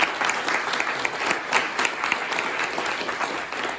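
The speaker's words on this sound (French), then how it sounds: "Je vous propose de les applaudir parce que tout le monde signait." An audience applauds a library team at the opening of a book fair in Saint André, with steady dense clapping that holds at an even level throughout.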